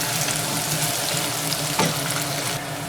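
Sliced garlic and ginger fry in oil for a fish pulao, giving a steady, close sizzle with one louder crackling burst partway through and no talk.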